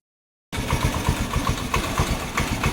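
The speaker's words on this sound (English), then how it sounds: "Start the scooter and let the engine oil warm up before draining." A Honda Activa scooter engine kicks into a close, steady idle with a rapid, throbbing putter, running alone with no talking.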